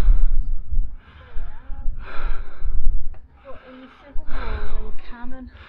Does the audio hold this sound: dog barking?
no